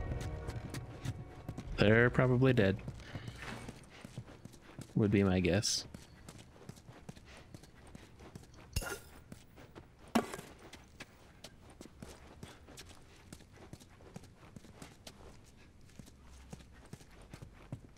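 Horses clip-clop at a steady walk in The Last of Us Remastered, faint hoofbeats repeating throughout, with a couple of louder voice or whinny bursts early and people talking over them.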